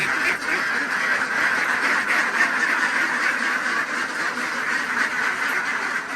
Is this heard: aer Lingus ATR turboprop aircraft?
no